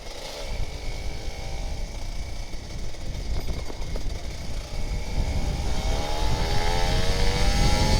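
A freshly serviced Kawasaki Ninja RR 150 motorcycle engine idling and revving up, loud and close, rising in pitch and intensity toward the end.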